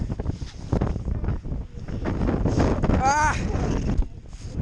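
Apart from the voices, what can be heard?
strong wind in a snow storm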